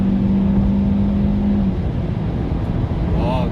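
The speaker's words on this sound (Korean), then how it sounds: "엔진 소리 들리시죠?" Hyundai Avante car engine revving at about 5000 rpm, heard from inside the cabin as a loud, steady drone with road noise, then easing slightly, with a brief voice near the end.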